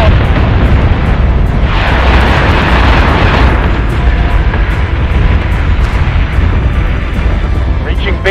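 Ship batteries firing in the space combat game Battlestar Galactica Deadlock, a loud, dense barrage of booming blasts and rumbling bursts that runs continuously, with voice chatter over the top.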